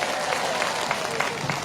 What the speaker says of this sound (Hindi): इसके लिए एक बार जोर से ताली बजाइए।